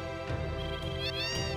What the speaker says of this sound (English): It's a place full of cats.